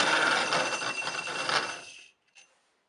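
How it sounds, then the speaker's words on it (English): A power grinder flattens and smooths the inside of a shell for a wampum button, giving a steady, loud, close abrasive whine that cuts off abruptly, followed by a short faint scrape. "What I'm doing here is just grinding the inside of the shell flat and smooth."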